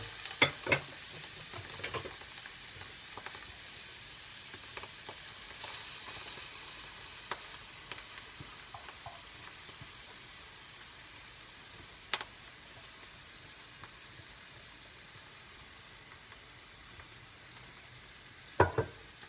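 Mushrooms with added cream sizzle faintly and steadily in a pan, with occasional light stirring clicks and scrapes over a soft, continuous frying hiss.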